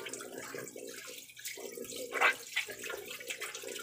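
Kitchen tap water splashes over tilapia being rinsed clean, a steady running hiss broken by sharper splashes as the fish is moved under the stream.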